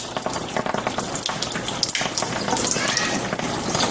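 Kangen water fizzes with a continuous crackling, popping hiss, like fine bubbles bursting, close and steady with a few sharper snaps, alone without talk.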